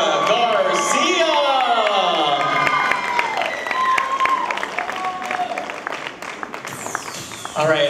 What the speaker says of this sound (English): a big round of applause for all three of our princesses